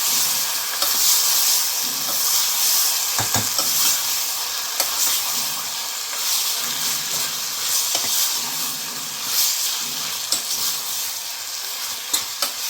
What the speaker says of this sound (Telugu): కొవ్వుని వేసేసి బాగా కలుపుకోవాలి